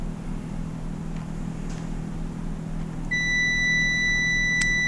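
A multimeter gives a continuity-check beep while testing a 12-volt DC circuit, a steady high electronic tone that starts partway through and holds over a low background hum.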